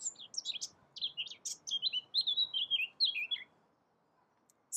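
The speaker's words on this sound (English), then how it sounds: "beautiful sounds like little birds singing." Small birds sing a rapid series of high, thin chirps and trills in quiet surroundings, then fall silent near the end.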